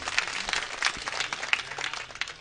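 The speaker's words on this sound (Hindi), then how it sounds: "एक बार आप लोग जोरदार तालियां बजा करके नारायण जी कविता तालियां बजा के बताओ एक बार" An audience at a Hindi comedy poetry gathering gives brief, scattered applause, with faint, distant-sounding clapping.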